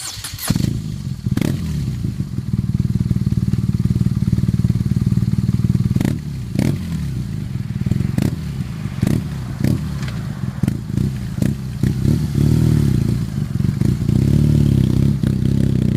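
A BMW R nineT motorcycle with an air and oil cooled twin-cylinder boxer engine runs close by, a steady deep rumble broken by repeated sharp throttle blips and revs.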